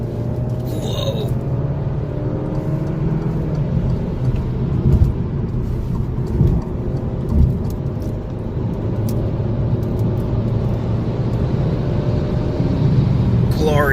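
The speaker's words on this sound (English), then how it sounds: "This is where we start accelerating onto a highway." Inside a 2019 Alfa Romeo Giulia Veloce accelerating onto a highway at night, a loud, steady low engine drone and road rumble fill the cabin, with faint rising tonal lines.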